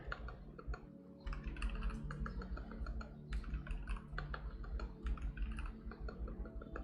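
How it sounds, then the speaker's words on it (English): Rapid, uneven tapping on a computer keyboard during an app coding session, close and steady with short bursts and brief pauses, and no talking. "I'm ADHD typing right now"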